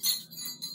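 Small bells ringing in a quick tinkling run, with bright repeated chimes that fade and return over a short stretch, close and fairly clear with no talk over them.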